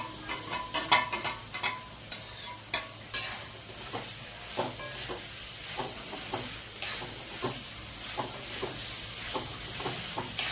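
Cauliflower florets dropped into hot oil with cooked spice masala crackle and sizzle in a pan, with a steady frying hiss and repeated sharp stirring scrapes and clinks near at hand, no talking.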